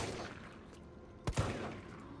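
Gunfire in the Resident Evil 3 Remake video game, a single sharp shot followed by a quick second crack against a dense, noisy in-game background.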